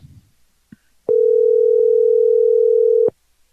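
A steady telephone dial tone holds for about two seconds after a couple of faint clicks, loud and continuous, then cuts off abruptly.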